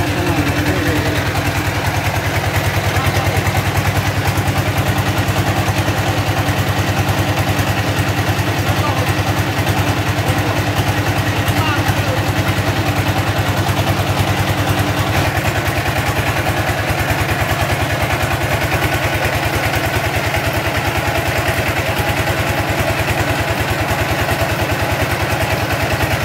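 A brick-making machine cuts freshly extruded clay bricks, filling the space with a loud, continuous mechanical drone and clatter that holds steady throughout, with a voice talking over it.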